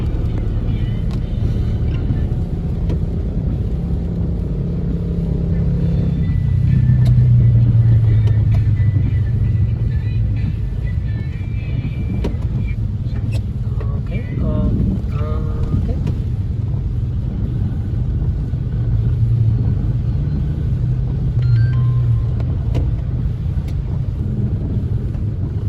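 A car driven slowly on a road, heard from inside as a steady low engine and road rumble with some wind buffeting, while a person talks throughout.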